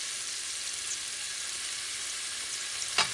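Cilantro and culantro sofrito caramelizing in a pan for Puerto Rican arroz con salchicha, a steady close sizzle and frying hiss that runs without a break, with a brief clink near the end.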